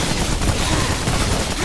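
A loud gunshot burst in the video game Remnant: From the Ashes, a dense, noisy blast of gunfire filling the whole moment in a chaotic fight.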